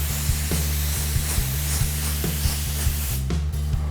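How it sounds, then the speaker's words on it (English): A spray gun lays coats of automotive paint onto a test card with a loud, steady, close hiss, while a low mechanical hum from a compressor pulses underneath. "So now I'm gonna start putting the coats on the actual card itself to see how many coats it takes to hide."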